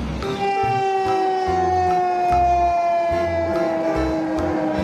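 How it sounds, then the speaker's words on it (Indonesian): A loud toy fire truck siren wails in a steady tone that slowly falls in pitch, over rhythmic low thumping. "ini adalah mobil pemadam kebakaran, teman"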